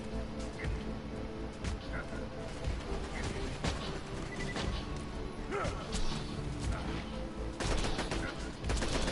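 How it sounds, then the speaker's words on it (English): Corrosive Vladof sniper rifle shots in Borderlands 2, a dense run of sharp gunfire cracks and impacts over a busy game soundscape, with a voice talking beneath. "This corrosive Vladov sniper rifle is fucking disgusting."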